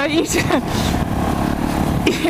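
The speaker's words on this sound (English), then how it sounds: "I was just having a bit of a laugh revving it at the giveaway line there" A Fantic Caballero 500 motorcycle engine runs and revs nearby, a throaty mid-pitched drone with small surges, while a rider talks over it throughout.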